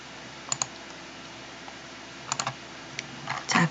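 Keys tapped on a computer keyboard while entering a search query, a few short sparse clusters of crisp clicks separated by quiet gaps, close and fairly faint.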